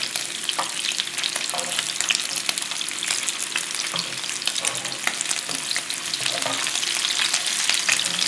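Vegetarian bacon fries in a pan with a steady, dense sizzle and crackle, close and continuous, with occasional light stirring noises and no voices.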